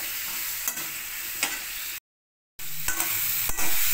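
Tomatoes fry in a pan for a cauliflower curry, giving a steady close sizzle with occasional scraping stirs, and the sound cuts out briefly before resuming.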